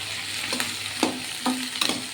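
Chillies and tamarind sautéing in a pan for tomato chutney, a steady close sizzle with a few soft stirring scrapes over it and no talking.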